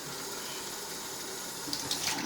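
Water runs from a sink tap into a small neti pot, a steady close rush of flow that brightens in pitch near the end as the pot fills.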